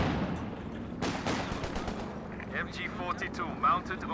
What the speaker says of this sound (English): MG42 mounted and ready.